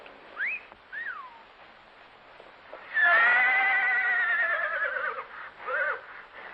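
A horse lets out a loud, drawn-out whinny lasting about two seconds, with shorter high squealing calls before and after it.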